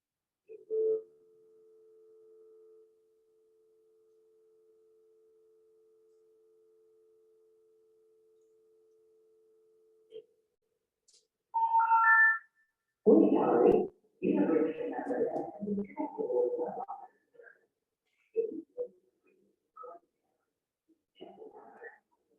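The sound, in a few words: telephone operator tones on a recording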